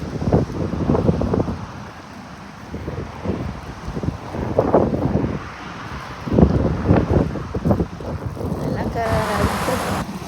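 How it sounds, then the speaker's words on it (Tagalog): Strong wind gusting into the microphone outdoors, buffeting in rough, uneven bursts with a brief rattling at the end, while someone talks. "Malakas ang hangin guys."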